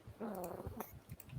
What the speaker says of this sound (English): aggressively affectionate kitten.